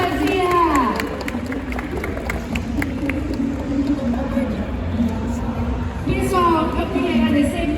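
An anime convention crowd at Anime Friends claps and cheers for a singer, a lively crowd roar mixed with loud voices and cheering that swells again near the end.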